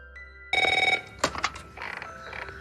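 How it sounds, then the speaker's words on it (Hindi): A telephone rings in short repeated bursts of bright electronic trilling, close and clear, broken by a brief clatter between rings, with no voices over it. "उसका फोन बार बार बजने लगता है"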